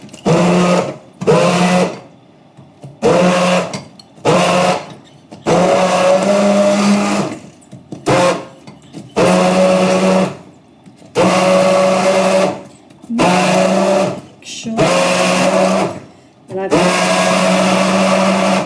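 A blender pureeing apple whirs loudly in repeated bursts, switching on and off in short pulses with brief silences between, close and harsh.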